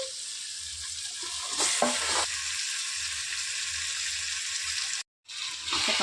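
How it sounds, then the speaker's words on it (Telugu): Marinated chicken being stirred into a pot for chicken dum biryani, a steady close sizzle with scraping stirs, briefly cutting out near the end before resuming. "ముందుగా కలిపి పెట్టుకున్న ఈ చికెన్ని ఇందిట్లోకి వేసేసుకోవాలి"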